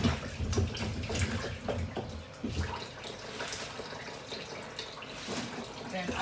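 Running tap water splashes over plantains as they are rinsed for soup, a steady close gush with clattering and dripping, under a speaking voice.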